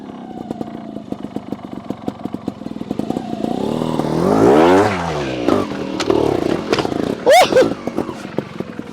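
Sherco SHT 300 Factory carbureted trials motorcycle revving and clattering over rocks, engine note rising and falling in short bursts, close and fairly loud, with a brief whoop of a voice near the end.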